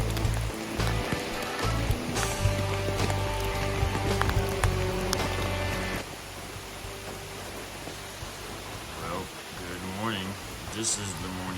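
Steady rain patters on and around an Appalachian Trail shelter on a wet southbound thru-hike morning, a dense continuous wash with drips, while a person talks over it and the rain thins slightly partway through.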